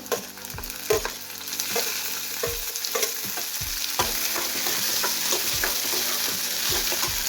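Tomatoes go into browned onions for a masoor lentil curry, making a loud, steady sizzle in the pan with repeated close clatters of a stirring spoon throughout.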